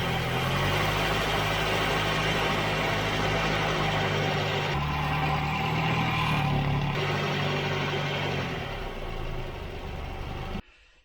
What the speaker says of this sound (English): And we bring the revs up.